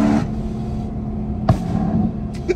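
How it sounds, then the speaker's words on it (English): Straight-piped BMW M3 E90 engine running close by, a steady loud exhaust drone throughout with a couple of brief sharp knocks, heard alone. "the car is just unnecessarily loud all the time"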